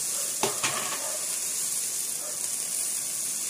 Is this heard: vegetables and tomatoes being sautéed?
yes